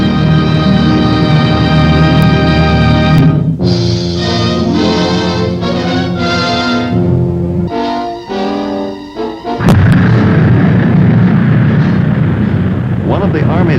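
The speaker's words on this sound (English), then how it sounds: "One of the Army's latest solid fuel missiles, the Pershing, underwent a successful test firing" A Pershing solid-fuel missile test firing, a loud sustained rocket roar that breaks off midway, gives way to tonal, horn-like blasts, then surges back as a broad rumbling noise.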